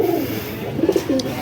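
Pigeons coo close by, a few low, throaty rolling calls over a quiet outdoor background.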